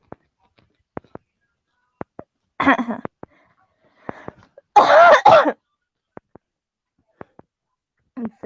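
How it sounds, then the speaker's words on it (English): A person coughs a couple of times in short harsh bursts, close and clear, with sore-throat rasp, between quiet clicks and near-silence. "Yeah, I'm coughing now."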